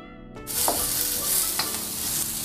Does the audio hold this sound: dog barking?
no